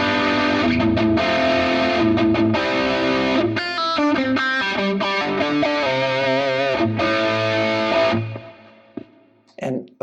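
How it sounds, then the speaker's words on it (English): Distorted electric guitar run through a stereo doubler effect on a Quad Cortex, playing sustained chords and a busier riff for several seconds, loud and close, before stopping with a few faint noises at the end. "the doubler is a stereo effect"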